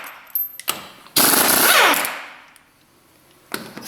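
Astro 1828 Nano 3/8-drive air impact tool on a Dodge Dakota front axle job, firing a loud, close rattling hammer burst of under a second that winds down, with short bursts before and after.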